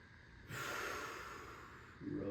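A single deep breath in during a flow workout session, a close, airy inhale lasting about a second and a half, with a short breathy sound following.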